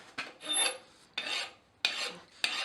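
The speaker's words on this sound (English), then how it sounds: "Now you can actually come in here with an even finer file yet" A fine file rasps across hot metal cooled to a black heat, four separate forward strokes, each a close, dry scraping burst with short quiet gaps between them.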